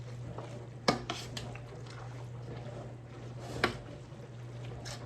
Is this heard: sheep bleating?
no